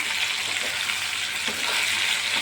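White brinjal fries in a pan, a constant, even sizzle filling the space up close, with faint soft stirring bumps beneath the hiss.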